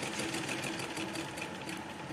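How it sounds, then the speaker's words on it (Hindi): A sewing machine runs steadily, stitching along one side of fabric for a full-flare Punjabi Patiala salwar; a quiet, continuous mechanical whir with no talk. "एक कपड़े के ऊपर सिलाई लगा रहे हैं हम एक साइड में अभी"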